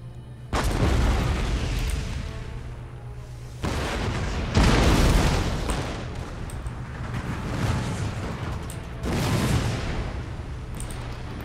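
Artillery in Empire: Total War pounding a fortress wall during a siege, loud heavy booms arriving in several distinct rolling blasts, each followed by a sustained rumbling roar of debris and battle noise.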